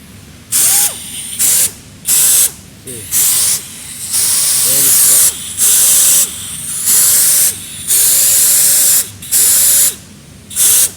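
Compressed air hisses loudly through the hose of an air pencil grinder under repair, in repeated sharp bursts of roughly a second each with brief gaps, along with a faint whine and the odd mechanical rattle.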